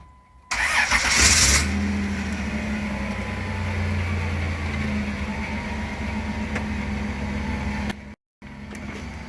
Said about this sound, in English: And we'll start the car